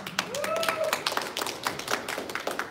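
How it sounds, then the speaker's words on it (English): An audience claps during a Kangen water demonstration, a short burst of scattered hand claps with a few taps and thumps, mixed with murmured talk and a brief tonal squeak. "Can we give a hand clap for that?"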